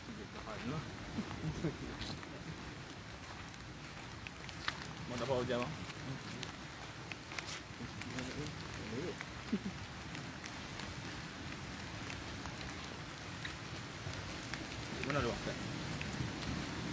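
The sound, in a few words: heavy rain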